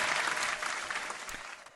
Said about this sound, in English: Claps all around.